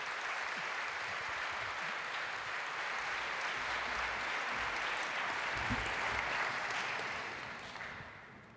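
A gala audience applauds its organisers with sustained, dense clapping from a large crowd. It stays steady for several seconds, then fades toward the end, with no voices standing out.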